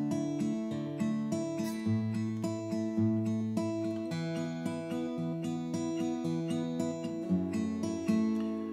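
An acoustic guitar strums a repeating pattern through a chord progression in a worship-song lesson, the chords clearly changing in a steady, bright rhythm, played alone without voice.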